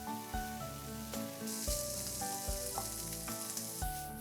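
Rice and carrots stir-frying in a pan over high flame, a steady loud sizzle with repeated clanks and scrapes from tossing, set against a faint musical background.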